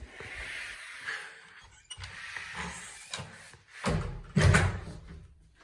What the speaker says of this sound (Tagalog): Lakas daw yung kanyang pinto.